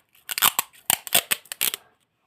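Scissors snip through cheap adhesive tape in a run of crisp, close cuts, grouped in quick bursts with short pauses between them, heard alone.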